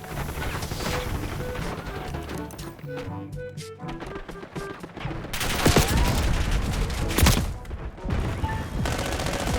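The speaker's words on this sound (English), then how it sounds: "Sentry Turret operating." Automatic sentry turret fire in the Black Ops 6 video game, heard as dense bursts of rapid gunfire with crashes and impacts layered throughout, loud and continuous over busy in-game sound.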